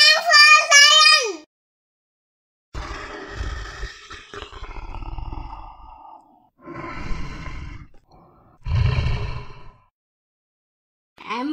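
A lion roars in several deep, rough bursts separated by short silences, loud and close, after a brief high vocal sound at the start.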